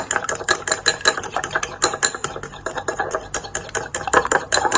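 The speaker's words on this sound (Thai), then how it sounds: "เจียวไข่เลยค่ะ" Eggs are whisked briskly in a bowl for a Thai steamed egg dish, producing fast, regular clinking and scraping strokes, close and steady, with a few faint background sounds.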